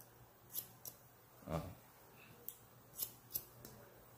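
Scissors snipping a child's hair during a traditional children's haircut, with a handful of crisp, separate snips spread out over a few seconds, close and moderately loud against a quiet room.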